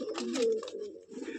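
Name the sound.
pigeons cooing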